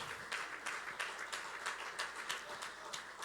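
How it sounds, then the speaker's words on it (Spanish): A church congregation claps hands as an offering to the Lord, a steady patter of many hands in a worship service, fairly quiet and distant, with no talk over it. "Démosle una ofrenda de palmas al Señor por eso"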